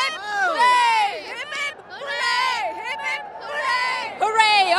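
A crowd cheers for the Karnataka Bulldozers team, excited whoops and shouted cheers rising in three bursts, close and lively.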